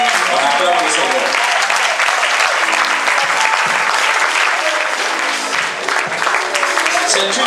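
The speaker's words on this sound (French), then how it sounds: "On acclame le Seigneur." A church congregation applauds in dense, loud, sustained clapping that fills the room throughout, with voices cheering under the applause.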